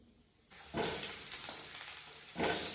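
Potatoes drop into hot oil in a wok and set off a sudden loud sizzle that crackles steadily close up, swelling again near the end.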